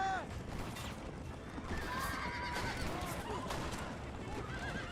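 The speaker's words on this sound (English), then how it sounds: "There we go, I shot his horse." Horse in the Red Dead Redemption video game whinnying after being shot, several rising and falling neighs over a busy game soundscape with hooves and scattered booms, voices murmuring faintly underneath.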